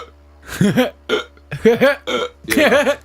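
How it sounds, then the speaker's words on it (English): A man with debilitating hiccups: a run of sharp, close, voiced gulps and catches in quick succession, some doubled, loud and abrupt against a quiet background hum. "I've gotten hiccups that are quite debilitating"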